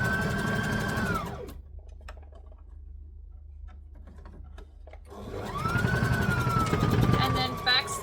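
Sewing machine stitching a pink dress: a loud whirring run, then a pause with faint clicks, then another run that winds up to speed again, under a voice.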